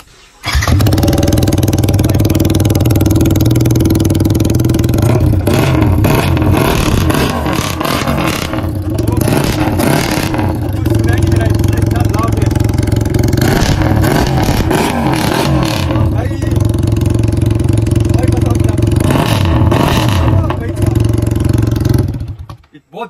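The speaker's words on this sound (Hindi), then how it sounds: "अभी चलो एक बार स्टार्ट करके देखते हैं विदाउट एग्जॉस्ट साउंड सुनते कैसा होगा।" A motorcycle engine runs with its exhaust removed, giving a loud, raw, clattering idle with repeated revs rising and falling, close up and continuous for over twenty seconds.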